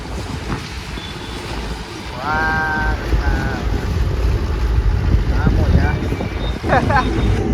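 Strong wind gusts buffet and roar against the microphone, mixed with a rumbling background and a few short tonal sounds.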